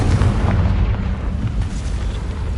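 A Confringo blast spell in the Hogwarts Legacy video game produces a loud, deep, rumbling explosion that fills the whole short stretch with heavy low-end booming.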